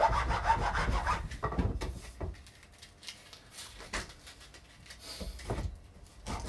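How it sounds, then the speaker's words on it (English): Round metal file rasping a groove into a wooden haft for a medieval mace head, heard as uneven bursts of scraping strokes, louder at first and then lighter and more spaced out. "So now I'm just going in with that round metal file again"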